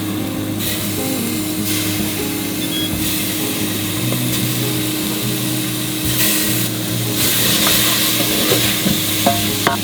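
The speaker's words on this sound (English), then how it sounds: "Well, let's throw in these leftover tomatoes." Leftover tomatoes drop into a hot pan for a plant-based bean stew and are stirred, giving a continuous sizzle with scraping and knocking of a spoon against the pan, close and fairly loud throughout.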